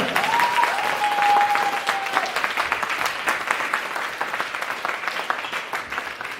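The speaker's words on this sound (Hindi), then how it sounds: "तो एक बार और जोरदार तालियां" A crowd at a network marketing seminar claps loudly and continuously, a thick wall of many hands close by that eases gradually toward the end, with a brief high whistle-like tone near the start.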